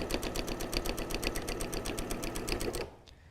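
A sewing machine stitches binding on a spring-inspired fabric napkin in a rapid, even mechanical chatter for nearly three seconds, then stops abruptly into quiet.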